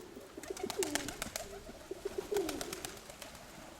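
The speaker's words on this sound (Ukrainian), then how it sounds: "Оця моя найкраща голубка дворічної давнини." A two-year-old female pigeon coos softly close by, two short rolling coo phrases separated by a pause, over faint background noise.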